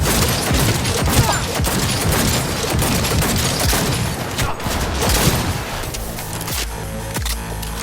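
Sustained minigun fire in the video game Cyberpunk 2077, a loud continuous roar of rapid shots with booming impacts and mechanical clatter, thinning into scattered bursts near the end.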